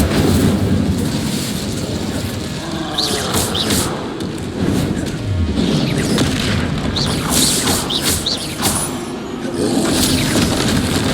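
Spell blasts in the Hogwarts Legacy video game boom and crash in loud, rapid succession, dense overlapping impacts rolling continuously through the fight.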